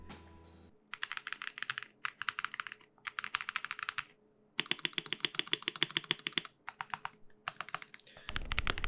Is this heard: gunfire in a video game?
no